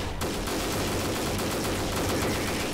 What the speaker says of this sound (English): there's a lot of firing going on right now, a lot of firing